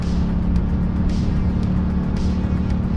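A 2017 Yamaha MT-07 motorcycle engine revs hard during a wheelie attempt, a steady loud drone with a strong low hum and wind rush, continuous and close throughout.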